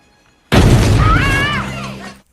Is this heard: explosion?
yes